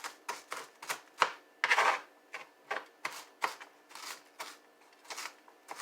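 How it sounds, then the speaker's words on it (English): Dough cutter blade chopping through onion on a board in rapid mincing strokes, a dozen or so sharp, crisp cuts in an uneven rhythm, close and fairly loud with no talking. "It's a dough cutter, but I am going to use it to mince my onion more."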